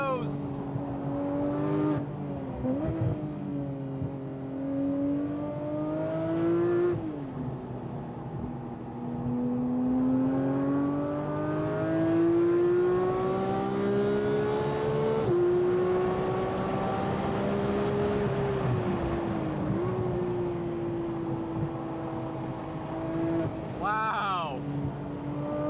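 A modified Porsche 911 991.2 GT3 with a PDK gearbox drives hard on a race track. Its engine howls steadily, rising and falling in pitch through quick gear changes, and a voice speaks intermittently over it.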